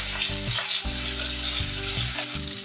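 Green chillies and tomato hit hot oil in a wok, giving a loud, steady frying sizzle that runs unbroken throughout, with low tonal hum underneath.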